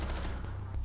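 Automatic gunfire in a Rainbow Six Siege round, a dense continuous burst of shots with heavy low-end rumble, fairly loud and steady with no voices over it.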